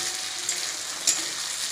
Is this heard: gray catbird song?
no